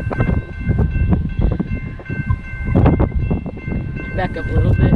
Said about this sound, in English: Here's the train from both ways.